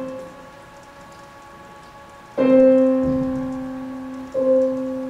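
Two steady pitched tones an octave apart sound together, struck sharply and ringing clearly, after a quieter sustained tone; a second attack follows near the end, with no voices.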